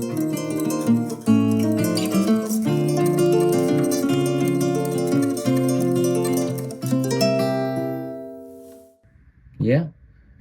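Layered tremolo electric guitars woven with a steel-string acoustic guitar, dense shimmering chords ringing loud and continuous before decaying into near silence, followed by a brief rising sweep at the end.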